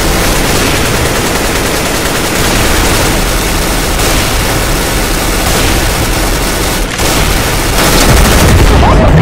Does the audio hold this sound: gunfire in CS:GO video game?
yes